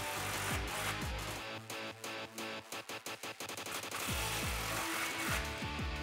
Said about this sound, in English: All right, now you can grab a 15 socket and tighten down these clamps.